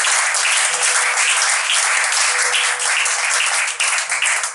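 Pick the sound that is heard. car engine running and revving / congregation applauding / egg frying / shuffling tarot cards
congregation applauding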